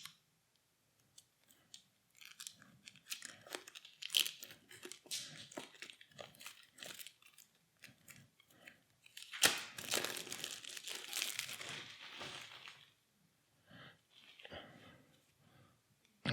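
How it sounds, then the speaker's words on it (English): Plastic wrapping torn and crinkled off a large pack of board-game cards: close, irregular crackling and rustling bursts, busiest in the middle, with brief pauses and small clicks. "Now let's open up this big pack of cards."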